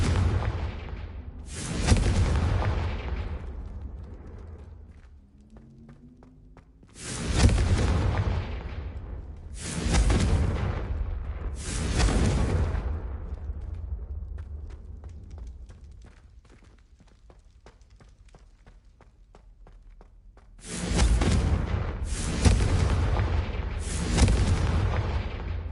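Confringo fire spells exploding in Hogwarts Legacy, several loud booming blasts in separate clusters, each decaying into a rumbling tail, with quieter gaps between them.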